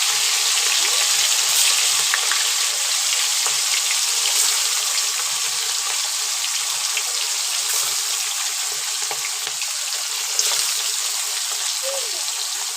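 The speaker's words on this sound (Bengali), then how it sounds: "যেহেতু প্রচন্ড ফাটফাট করে ফাটছে মাছটা" Fish frying in a pan gives a steady broadband sizzle with scattered sharp crackles and pops, close and fairly loud throughout, with no speech over it.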